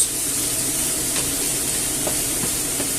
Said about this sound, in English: we'll fry this gently until it's soft